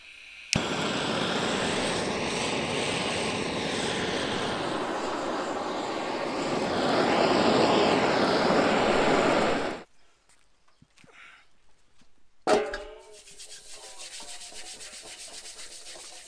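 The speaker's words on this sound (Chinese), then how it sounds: "首先呢，把这个牛蹄的表面啊用火给它烧上一遍" A hard, steady roar from an open flame, likely a torch, burning the surface of raw cow hooves runs for about ten seconds and then cuts off. A sharp knock follows, then quiet handling sounds.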